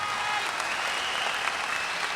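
Audience applause fills a concert hall, a dense, steady wash of clapping from a large crowd sustained without break, heard alone.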